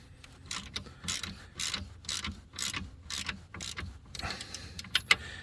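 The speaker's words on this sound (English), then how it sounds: "All right, I have a 14 millimeter socket. We're going to loosen these up." A ratchet on a 14 mm socket loosening the front spring adjusters on a Honda Rancher ATV, rapid clicking ratchet strokes in bursts, close and fairly loud, with a few sharp metallic clinks near the end.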